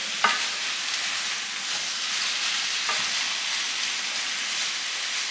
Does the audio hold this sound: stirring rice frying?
yes